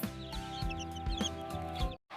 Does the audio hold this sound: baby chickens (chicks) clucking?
yes